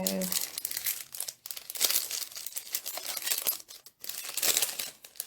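A sheet of gold foil is crinkled and handled close up, making continuous crisp rustling and crackling for several seconds, with a brief pause partway through.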